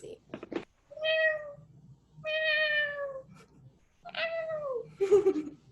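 A person imitates a cat, producing several drawn-out, clear meows one after another, close and loud, with short gaps of quiet between them.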